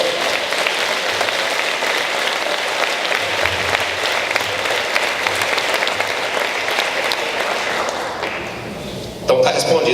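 A church congregation claps loudly and continuously for about nine seconds, a dense wash of many hands filling the room, with a voice carrying over it near the end as the clapping fades.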